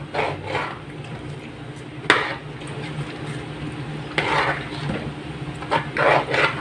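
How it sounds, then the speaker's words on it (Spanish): A spoon scrapes and knocks against the bottom of a pot while stirring a thick, bubbling sweet of yam and coconut, with irregular rasping strokes and a few sharper clacks over a steady low background. "se me facilita darle duro más al fondo con esta cuchara para que no se pegue más"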